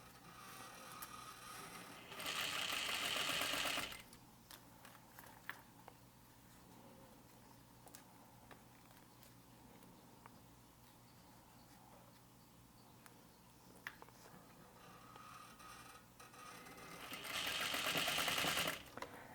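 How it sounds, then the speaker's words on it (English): Sewing machine topstitching an eighth of an inch from the edge of a double-fold wristlet strap, running in two short steady bursts, one early and one at the end, with quiet handling noises between. "And I'm just sewing really close to that edge."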